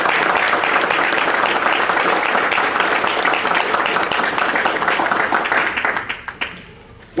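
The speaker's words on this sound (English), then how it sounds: "I think you ought to give him and his people a round of applause" Audience applause for the mayor at a tribute event, a loud, dense burst of many clapping hands that holds steady and then thins and fades toward the end.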